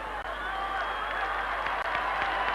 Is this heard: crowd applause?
yes